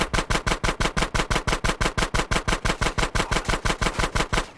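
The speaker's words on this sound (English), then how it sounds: "Shoot out the gate." Rapid automatic gunfire from a weapon in GTA San Andreas, fired to shoot out a gate by an old sewer tunnel, a loud sustained burst of evenly spaced shots at about six per second with no pause.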